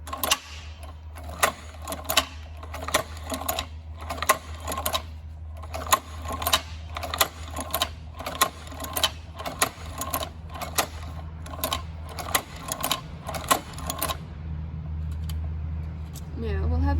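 A Cowboy Outlaw sewing machine stitches in a rapid, rhythmic run of mechanical clatter over a steady low hum, then stops about two seconds before the end and leaves only the motor's drone.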